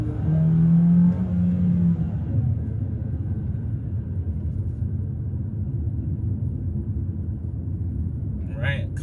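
A 2022 Jeep Compass TrailHawk 4x4 engine revs under hard throttle, a loud steady rumble with a brief rising whine at the start. It stays close and sustained throughout, with a voice talking over it.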